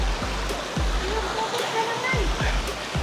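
Water from a stream rushes steadily over rocks near Bagyangon Falls in Malitbog, Bukidnon, a loud, continuous splashing flow with low thuds from movement nearby.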